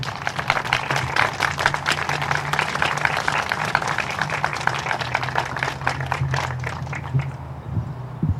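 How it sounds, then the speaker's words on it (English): Sustained applause from an outdoor audience honoring military veterans at a harvest festival, dense clapping that holds steady before thinning out near the end, with a low hum underneath. "let's give these guys a round of applause"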